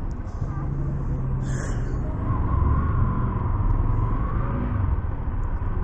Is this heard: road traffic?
yes